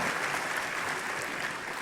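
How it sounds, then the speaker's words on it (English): Steady applause from a seated audience at a Humber College fall convocation ceremony, honouring a group of graduates from an electromechanical engineering technician program; dense, even clapping fills the hall without letup. "Please give a round of applause for the graduates from the Electromechanical Engineering Technician program."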